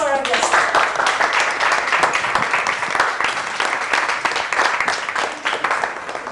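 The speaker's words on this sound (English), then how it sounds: "We'll request a round of applause for our guest." An audience at a literary event in Nagpur applauds as a guest comes on stage, a dense, loud wash of clapping that holds steady throughout with no talk over it.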